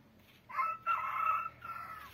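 A single rooster, sick with a throat illness, lets out one hoarse, raspy crow lasting about a second and a half. It sounds fairly close and rises clearly above faint farmyard background noise.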